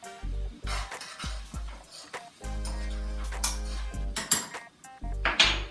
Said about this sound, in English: Let me grab a plate. And a spoon.